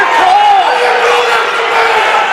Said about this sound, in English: loud Columbus crowd behind us here